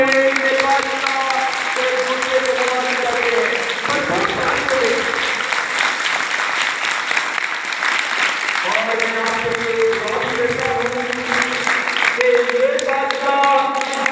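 Applause from a congregation at an Easter celebration runs continuously under someone speaking over a microphone, with the clapping steady and fairly loud throughout.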